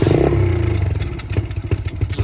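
A small ATV quad engine sputters and chugs loudly up close, its uneven idle pulsing as it catches and revs briefly.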